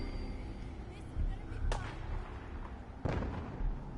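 Distant gunshots in the video game Fallout 4 crack out across open plains, two or three sharp reports at irregular intervals over a low ambient bed, moderately loud against the quiet background.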